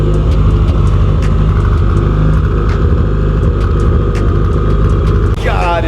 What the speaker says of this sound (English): I love the way this car idles, man, with these injectors and the way it sounds with these new headers.